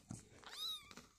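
A kitten gives a single drawn-out meow, close and fairly soft, in a quiet indoor setting.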